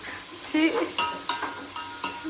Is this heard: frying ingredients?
yes